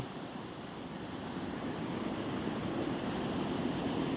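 Water pouring steadily over the spillway of the Huai Hin Kong reservoir, a dense, continuous rushing wash that grows slightly louder, with no voices.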